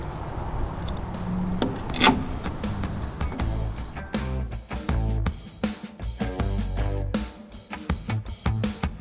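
A driver sinking the last two screws into a TownSteel E-Smart 5000 series electronic lock: close, rough grinding and rubbing with a string of stuttering ratchet pulses and brief motor whirs, fairly loud throughout.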